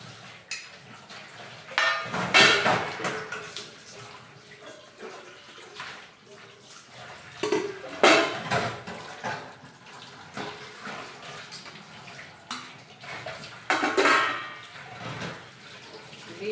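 Running water splashes in bursts while dishes clatter and scrape under it, close by and irregular, with no talking.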